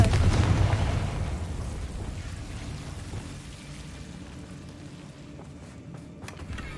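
A Confringo blasting spell explosion in the video game Hogwarts Legacy, one loud rumbling burst at the start that slowly fades into a noisy, rain-like wash with no talking.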